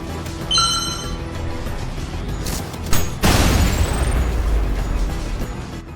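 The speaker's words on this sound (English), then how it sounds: "you can shoot the core eject with the malicious rail cannon to cause this" In the video game Ultrakill, shooting a core eject with the malicious rail cannon sets off a loud booming explosion midway that rumbles on, after brief electronic chimes and pops.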